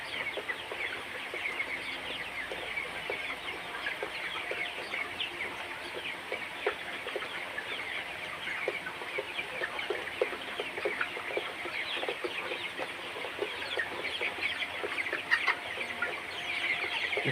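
Colour bird broiler chickens around 36 days old, a flock clucking and chattering continuously in a farm shed, with many overlapping short clucks at a steady moderate level and no talking.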